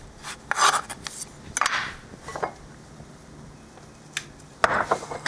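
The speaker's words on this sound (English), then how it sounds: "I'd just mince the parsley for you guys to show you how" Knife mincing fresh parsley very fine on a cutting board: a few irregular scraping and chopping bursts separated by pauses, close and fairly loud with no voice.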